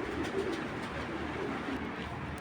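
Soft, low cooing of racing pigeons repeating over steady background noise, fairly close and continuous.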